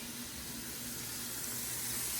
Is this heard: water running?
yes